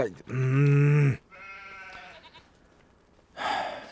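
A loud, drawn-out bleat rings out, followed by softer bleating and a final short call, sheep and goats crying out close by in Farming Simulator 25.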